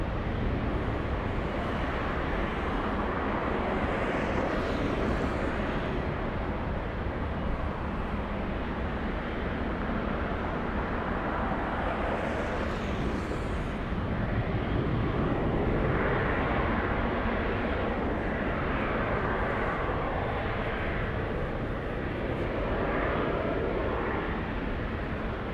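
A Delta airliner taking off from runway 24 left at Los Angeles International Airport, heard as a loud, sustained broadband jet roar that builds and swells steadily across the whole stretch.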